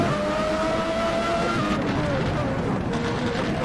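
Race car engine heard from inside the cockpit during an NGP race, a steady loud drone with shifting whine tones and no pauses as the driver fights the car's slides.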